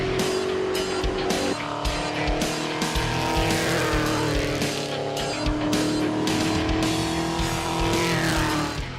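A V8 saloon race car powers up a tight, bumpy hillclimb course at Simola, loud and close, its engine note rising and dropping through gear changes with some tyre squeal, and no voices over it.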